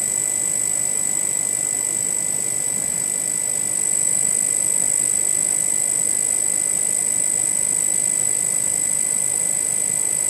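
A high-voltage electrostatic magnetic levitation motor spins at about 3100 RPM, making a steady, unbroken high-pitched whine over a constant airy hiss.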